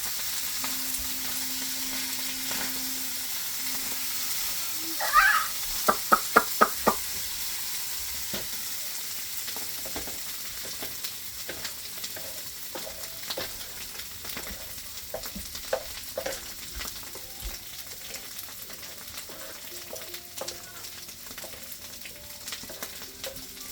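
Corned beef hash frying beside eggs topped with shredded cheese, a soft continuous sizzle and hiss with a burst of clinking utensil taps early on, then quieter scraping and pops.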